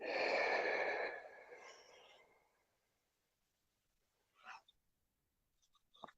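Slow conscious breathing, one long soft exhale fading out, then quiet with a couple of faint short breaths later, close and very low in level.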